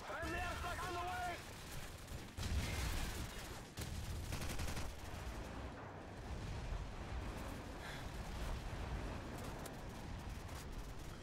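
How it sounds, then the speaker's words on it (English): Call of Duty 4 gameplay carries a run of bursts and explosive blasts from an airstrike amid gunfire, quiet and dense, with a player's voice talking over the game sound. "Friendly airstrike on the way!"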